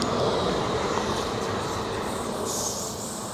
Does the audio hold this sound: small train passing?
yes